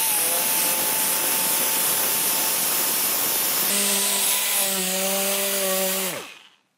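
Orbital sander fitted with 320-grit sandpaper working over metal, a loud continuous whirring hum that holds steady for several seconds, then winds down in pitch as the tool switches off and fades to silence.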